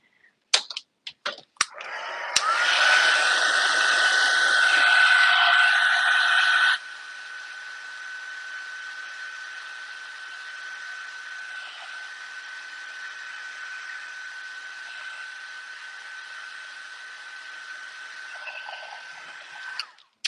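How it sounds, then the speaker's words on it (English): A heat tool blowing hot air to dry stamping ink on a handmade butterfly card, a steady close whooshing roar with a thin whine running through it, louder at first and then settling lower for a long stretch. "I'm going to bring in my heat tool and just give it a quick zap so that it's fully dry"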